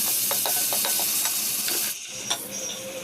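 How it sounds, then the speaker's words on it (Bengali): Sliced onions with salt fry in a pan and are stirred, with quick rhythmic scraping strokes over a bright hiss that drops to a quieter sizzle after a couple of seconds, with no talk. "পেঁয়াজগুলো একটু ভালোভাবে কষাই ফেলব লবণ দিয়ে দিচ্ছি তাড়াতাড়ি যেন নরম হয়ে যায় একটু লাড়ি চাড়ি দিচ্ছি"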